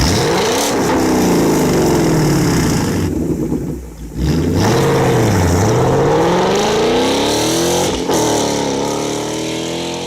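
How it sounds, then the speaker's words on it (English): A naturally aspirated Ford Mustang engine revs hard and loud nearby, its pitch climbing and falling through several throttle blips over a sustained roar, with a brief dip before it surges again. "But here's a naturally aspirated Mustang."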